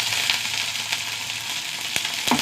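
Mustard seeds, five or six shallots, dried red chilies and curry leaves fry in hot oil, giving a steady close sizzle with sharp pops and crackles and a stir near the end.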